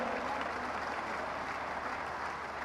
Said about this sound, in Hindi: ताली जरा जोर से बजनी चाहिए।